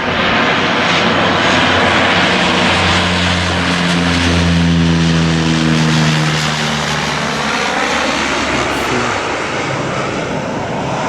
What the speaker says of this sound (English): I think that might be one of the planes taken off from